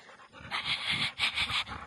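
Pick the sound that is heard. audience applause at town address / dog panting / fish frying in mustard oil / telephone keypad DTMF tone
dog panting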